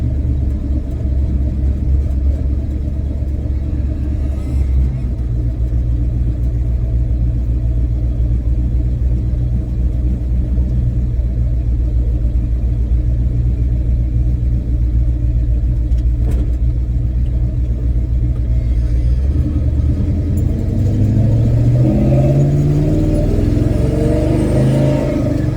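Car engine idling and revving after a throttle body adjustment and drilling for a big cam, a steady close rumble throughout with rising revs near the end.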